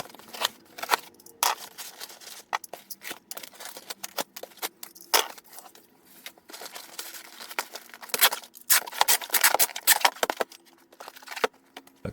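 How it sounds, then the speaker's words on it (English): A cardboard shipping box being cut down for resizing, with irregular sharp snips, scrapes and crinkles close by and no talking. "I am definitely going to have to cut this box down though"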